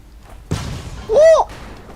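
Explosive barrels detonate in the video game Goat Simulator: a sudden heavy thud breaks out loud, followed by a rumbling tail and a brief swooping whistle.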